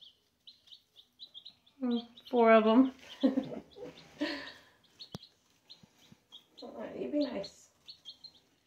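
Baby chicks chirp in short, soft, high peeps scattered steadily through the clip, close by, while someone talks over them.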